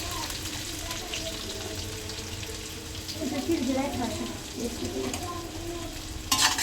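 Chopped onions and green chilies fry in a pan for a pasta dish, a steady sizzle with stirring and scraping that grows busier midway, ending with a brief clatter.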